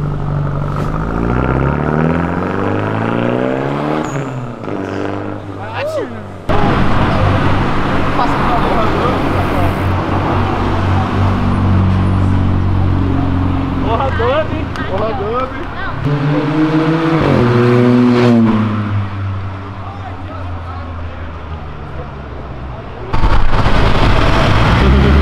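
A tuned Mitsubishi Evo revs hard at a nighttime car meet, its engine roaring loud and close with rising pulls and sharp backfire pops as flames spit from the exhaust, someone talking excitedly over the noise.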